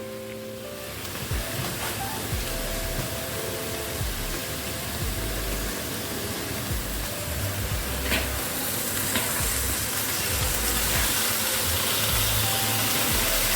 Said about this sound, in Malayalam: ഇനി നമുക്ക് കോഴി ഇട്ട് കൊടുക്കാം.